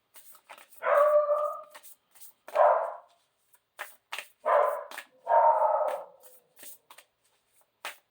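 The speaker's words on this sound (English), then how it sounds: "My dog is barking." A dog barks indoors in several loud, separate bursts spread across the stretch, with quiet gaps between them and no talking over it.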